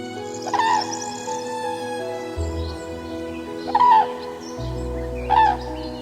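A crowned crane on the savannah gives deep, resonant calls, three separate honking cries spaced a second or two apart over a low steady background.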